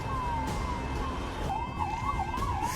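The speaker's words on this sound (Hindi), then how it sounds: "ये उसी वक्त की तस्वीरें हैं जब पहलगाम की तरफ एम्बुलेंस का काफिला जा रहा था।" An ambulance convoy heads toward Pahalgam, its sirens wailing steadily and then warbling up and down, heard over a constant roar of traffic and road noise.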